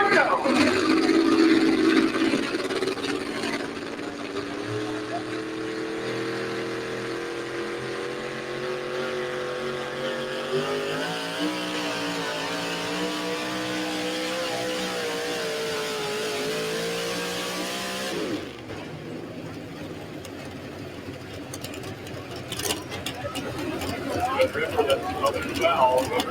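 A tractor-pulling tractor's engine revs and strains at an outdoor pull event, a loud, droning roar that rises in pitch and holds for many seconds before cutting off sharply, then a brief burst returns near the end, with voices in the background.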